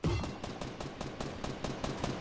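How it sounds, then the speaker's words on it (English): Rapid bursts of video game gunfire crackle in quick succession, a steady stream of sharp shots with no talking. "You hear all these gunshots from my live stream."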